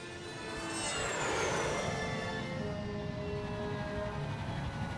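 A jet aircraft in the video game Psychonauts roars past with a loud, sustained whoosh that swells early and then settles into a steady rushing drone, heard alone without voices.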